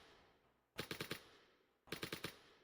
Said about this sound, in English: but it just shoots the gun